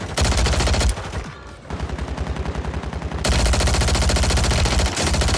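Striker 9 submachine gun in Warzone 3 fires long sustained automatic bursts, loud and close, with a brief lull midway before the rapid shots resume.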